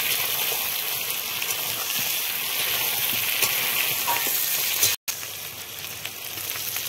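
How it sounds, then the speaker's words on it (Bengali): Pointed gourd (potol) frying in hot oil in a pan gives a loud, continuous hiss and sizzle that lasts throughout, broken by a brief cut near the end. "পটলগুলো একটু লাল লাল করে ভেজে নেব"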